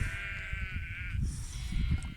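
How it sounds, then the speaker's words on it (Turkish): Sheep returning from pasture bleat in drawn-out, wavering calls, one long cry followed by higher overlapping bleats, over a steady low rumble of outdoor noise. "Koyunlar geldi geriye de artık"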